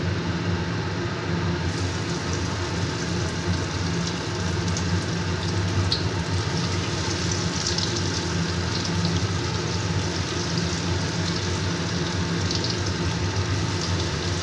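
Fish cutlets fry in hot oil over a gas flame turned low, giving a steady, even sizzle that runs unbroken the whole time, fairly loud and close, with no voices.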